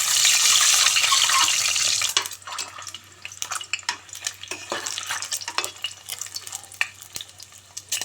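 Eggs with small knife cuts fry in mustard oil, a loud dense sizzle that abruptly cuts down to scattered crackles and pops over a low hum.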